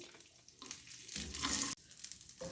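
Whole pistachios fry in a little ghee in a pan for desi panjiri, giving a steady broadband sizzle that swells louder mid-way with shuffling stirs, then briefly cuts out before resuming.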